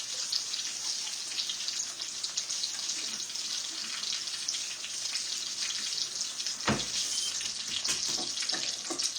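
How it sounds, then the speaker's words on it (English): A kitchen tap runs steadily while hands are washed under it, giving a continuous bright hiss of water with splashes and occasional clunks, close up, and nobody speaking. "Let me wash my hands real quick."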